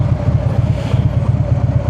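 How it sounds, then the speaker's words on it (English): A Harley-Davidson motorcycle engine revs under a bridge, rumbling close by with a steady, throbbing low pulse that carries on without a break. "If you're not revving your Harley under a bridge, are you even riding a Harley?"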